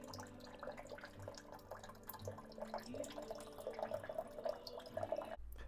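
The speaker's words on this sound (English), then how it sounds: "we are in flush mode and it asked us to dispense. So we're dispensing right now." Water running from a WaterFirst Dr.Water Y five-stage countertop reverse osmosis filter dispensing in flush mode, a steady trickle and drip with a faint tonal hum, fairly quiet and close, with no talking.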